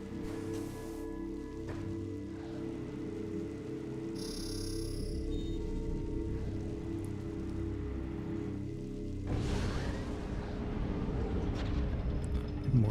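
Rain falling in the video game Metroid Prime 3: Corruption, a steady hiss of rain on surfaces mixed with low game ambience and a few electronic tones, and it swells louder near the end.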